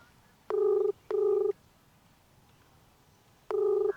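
A telephone rings with electronic tone bursts: two short rings in quick succession, a pause, then another ring beginning, fairly faint against a quiet room.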